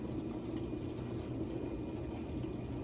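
Water gently simmering in a pot as a water bath for melting wax, a faint continuous bubbling and hiss, quiet and close.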